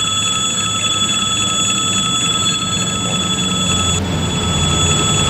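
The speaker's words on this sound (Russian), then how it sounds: "Все, проехал этот поезд, все, он открывает переезд." A Kazakh VL80 electric locomotive pulling a suburban passenger train rolls past nearby at a level crossing with a continuous rumbling roar, steady high tones ringing above it throughout.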